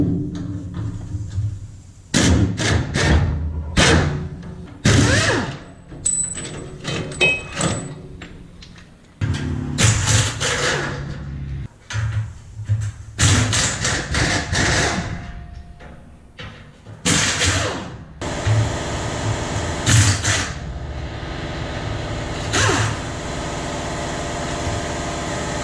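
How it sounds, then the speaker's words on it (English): Band clamps and a heat shield come off a semi truck muffler with irregular metallic clanks, thumps and rattles. A low engine-like rumble runs underneath, and a steadier hiss near the end fills the background. "We're going to start by removing the two band clamps on the flex plate and then the heat shield off of the muffler."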